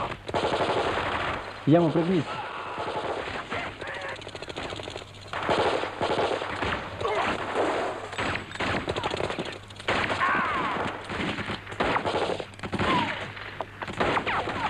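Machine gun fire rattles through an ambush scene in a film, with bursts of rapid shots repeating across the stretch and a voice heard briefly between them.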